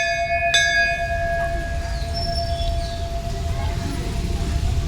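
A temple bell struck once near the start with a bright metallic clang, its tone ringing on and slowly fading over steady background rumble, with a faint second chime later.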